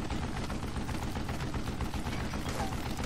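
Relentless rapid fire from a Gatling gun in the Western video game Call of Juarez: Gunslinger, a dense continuous roar of overlapping shots, loud and steady throughout with no talking.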